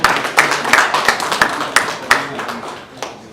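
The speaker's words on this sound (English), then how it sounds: "Please let's give him another round of applause." An audience at a network operators' conference claps after a presentation; a close, uneven patter of individual hand claps with a few sharp louder slaps, thinning out toward the end.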